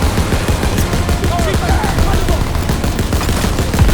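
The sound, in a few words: machine gun fire in Call of Duty WWII video game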